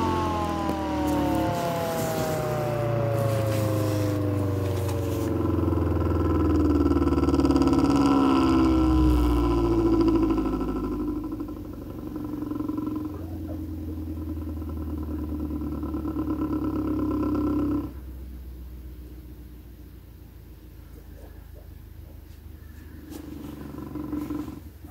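A homemade pulse motor winds down after being switched off, its whirring hum sliding steadily lower in pitch and fading, then dropping to a faint low drone near the end, with no talking.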